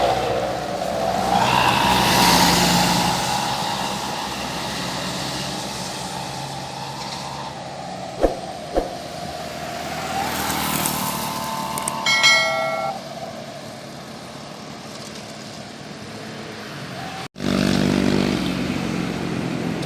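A Putra Pelangi bus drives past on a road, its engine rumble swelling and fading with passing traffic, brief clanks and a horn-like tone around the middle, then a sudden cut to steadier road noise.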